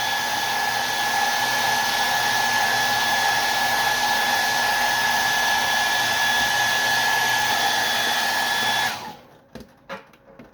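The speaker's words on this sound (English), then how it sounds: "Maybe do that for about 20 seconds using a hot air fan" A hot air fan blows steadily for about nine seconds while heating the plastic of a Canon MG5220 inkjet printer, with a constant whine and strong hiss, then cuts off abruptly, leaving a few faint clicks and handling knocks.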